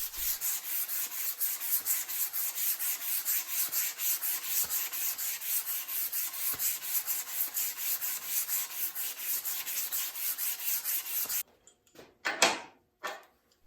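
A long sanding block rubs steadily along a wooden desk leg as it turns slowly on a spring pole lathe, making a continuous rhythmic scratchy hiss for about eleven seconds. A few sharp knocks follow once the sanding stops.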